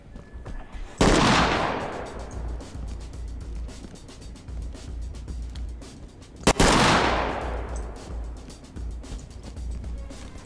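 Two loud bursts of gunfire ring out in the tactical shooter Ready Or Not, each a sharp close blast with a long echoing decay, separated by several seconds of low background rumble.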